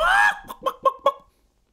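A hen gives a drawn-out squawk followed by three or four quick clucks, close by and fairly soft, with no one talking.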